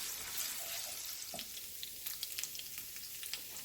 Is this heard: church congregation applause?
no